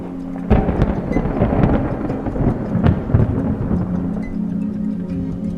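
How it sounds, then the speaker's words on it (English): A sudden crack of thunder followed by a long rolling rumble, with steady rain hissing underneath throughout. "thunder light and thunder sound"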